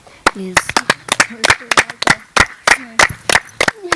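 A crowd applauds a participant: a burst of many sharp, irregular hand claps close by, mixed with excited voices calling out throughout.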